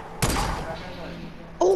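A single sharp, loud sniper rifle shot in the video game Fortnite cracks out and rings briefly, followed near the end by a second burst of game sound.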